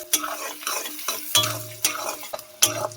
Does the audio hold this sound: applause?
no